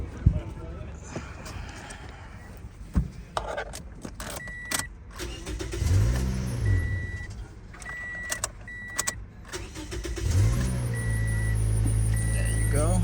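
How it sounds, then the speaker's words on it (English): A Toyota Yaris with a weak battery and suspected alternator fault is started. Cranking gives way to the engine catching and settling into a steady idle, with clicks and chimes earlier and talk throughout. "Now I'm just gonna start the car."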